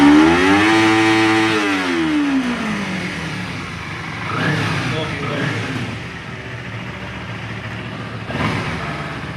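Kawasaki Ninja 250R motorcycle engine revving up high toward its 14,000 RPM limit, a loud rising buzzing wail that falls back to a rough idle, with later shorter blips and a voice speaking over it.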